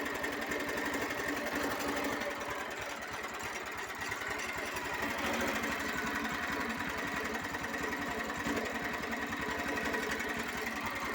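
A Chinese petrol walk-behind tractor engine runs steadily with a quiet aftermarket muffler, a close, continuous rapid chugging drone at an even idle throughout, with no talking.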